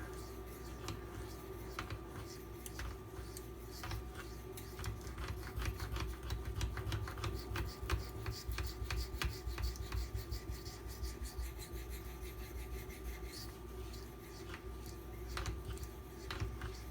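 A Spyderco Para 3 knife blade scraping over a sharpening stone in quick, repeated strokes, a faint, close rasp over a low steady hum.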